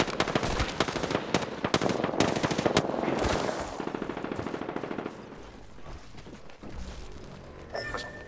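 Rapid bursts of video game gunfire from a G7 marksman-style rifle in a battle royale match, loud close shots in quick repeating volleys, then a sparser string of shots fading into quieter effects.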